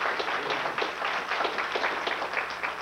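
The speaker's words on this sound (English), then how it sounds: "Give her another hand, Beth." A church congregation at an Easter service in an Assembly of God church applauds, with dense, even hand clapping that fills the room at moderate volume and no clear voices over it.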